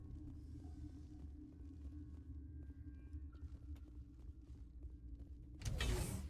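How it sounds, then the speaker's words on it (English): Elevator moving in the Mass Effect video game, a low steady mechanical hum with faint creaks and ticks, ending in a louder whooshing clunk as it stops. "Whoa, elevators."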